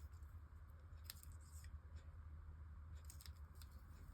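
Scissors snip through paper in a few quiet, crisp cuts, clustered in short bursts, faint and close at a card-and-box crafting table.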